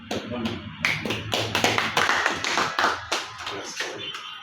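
An audience at a diploma presentation ceremony for the deputy rapporteur of the CENI claps in uneven, close, fairly loud bursts, with voices speaking over the clapping.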